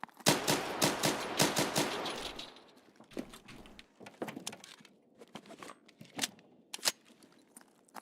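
Rapid automatic gunfire from a firefight in Escape from Tarkov, a dense burst of shots up close for about two seconds, then scattered single shots and clatter fading into sparser cracks.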